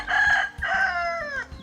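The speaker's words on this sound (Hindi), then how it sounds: "ये देखिए मुर्गा मुर्गी रखते हैं" Village chickens kept in a basket in Narayanpur district, a rooster and hens, call close by in loud, strained crowing-like bursts with clucking, several calls in quick succession.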